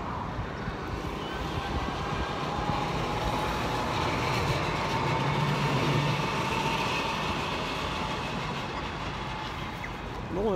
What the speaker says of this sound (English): Look at there, look at that tram.